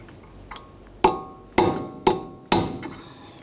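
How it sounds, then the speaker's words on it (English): Hammer striking a punch to drive the edge of an axle nut into a slot on a 2003-2007 Honda Accord, four sharp metallic blows at an even pace, close and loud with ringing decay, preceded by a light tap. "We have to use a hammer and punch and drive the very edge of the nut down into that slot."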